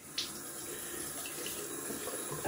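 Tap water runs steadily into a sink, close by, for a quick rinse while wet shaving with a Gillette New Short Comb safety razor.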